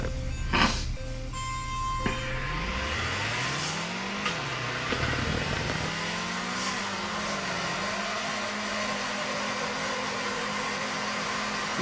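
Video game cars drift in FR Legends, with engine tones rising and falling in long sweeping revs and a steady tire-screech roar held continuously and loudly throughout, no voices.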